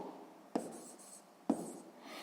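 A pen writes on paper at close range during a sixth-grade maths exercise, with two short scratching bursts of strokes over a quiet background and no speech.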